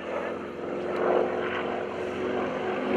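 A propeller airplane's engine roars steadily as it flies past at an airshow over Greenwood Lake, a broad continuous drone swelling slightly mid-pass with no talking.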